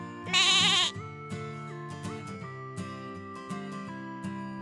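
A loud, wavering bleat from a goat or sheep, about half a second long, followed by quieter tonal sounds and music-like notes.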